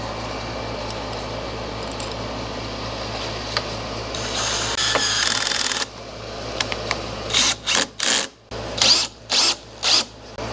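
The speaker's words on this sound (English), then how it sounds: "I'm gonna pre-drill the first hole." A power drill pre-drills a hole in thin sheet metal, starting with a continuous muffled whir and ending in several short, loud bursts of drilling separated by brief pauses.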